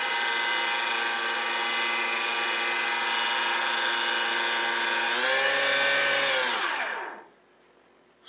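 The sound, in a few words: TJ100HP electric ducted fan running on model L-39 jet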